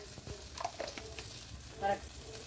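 Onion pieces fry in a little oil for a salsa, cooked over a wood fire, giving a soft steady sizzle broken by scattered light clinks and scrapes of stirring.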